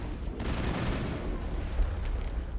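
Sustained gunfire in the PC game Mass Effect 1 during a Geth incursion firefight, a dense continuous burst of shots and impacts filling the whole stretch at steady loudness.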